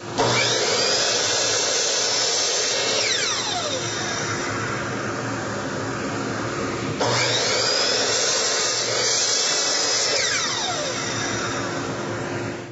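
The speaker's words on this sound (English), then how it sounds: "So now's the perfect time to cross cut, to miter cut, and to bevel cut the various parts that we need for this project." A Delta saw cross cuts and miter cuts wood trim, giving a loud, steady, close whine in two long runs, the second starting after a short break, with no voices.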